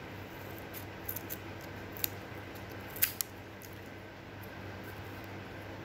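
Scissors snipping wooden popsicle sticks for a craft project: a few soft, sparse clicks and one sharper cut near the middle, quiet against a steady room hiss and hum.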